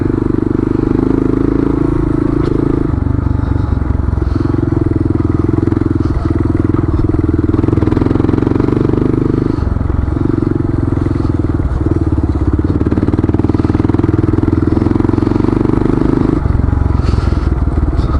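A Kawasaki KLR motorcycle rides over loose gravel, ruts and rocks, its engine droning loud and steady up close while the tires crunch and clatter over stones, with brief dips in the engine note as the rider eases off.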